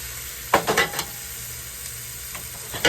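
Mushroom liquid and squash sizzle in a frying pan with a steady hiss, broken by several short, bright bursts of spattering when the liquid is poured back in.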